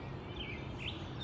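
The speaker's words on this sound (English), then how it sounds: "I think all the birds are telling me, man, get out of here" Faint, high chirps from a few birds in a food forest with grapevines and fruit trees, heard at a distance over a low background hum, with two short calls standing out.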